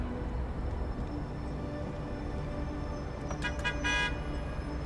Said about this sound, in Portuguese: Olha o cara buzinando.